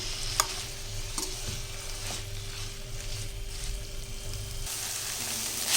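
Manathakkali greens are sautéed with onion and tomato in a pan, a soft, even hiss broken by a few sharp clicks and scrapes of stirring.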